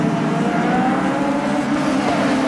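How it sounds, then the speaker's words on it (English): Sedans up to 1600cc sit on the grid at a circuit race meeting, engines droning and revving in a dense, sustained roar from several cars at once. "Engines are being revved."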